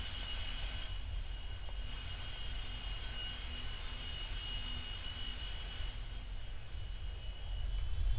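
Airplane landing in the flight game Aeronautica: a steady, loud engine drone and rushing hum held evenly across the whole stretch, swelling slightly at the end.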